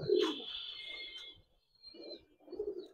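A pigeon of the pangkhi silver breed gives soft, low cooing calls in two phrases separated by a short pause, close by, with a faint higher tone over the first phrase.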